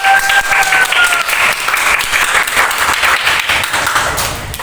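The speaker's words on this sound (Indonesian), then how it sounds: "mari kita beri tepuk tangan yang meriah kepada" An audience at an alumni talk gives a hearty round of applause for a speaker, a dense, loud, continuous clapping that holds steady throughout and eases slightly toward the end.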